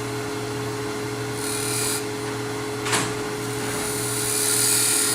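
Lathe spinning kiln-dried wood for a turned box while a small scraper barely touches the surface, giving a steady high whine and hum with a brief scraping sweep near the middle, no talk.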